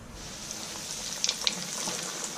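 Chicken pieces fry in hot oil for a KFC-style original recipe, giving a steady, even sizzle with a few brief pops and no talking.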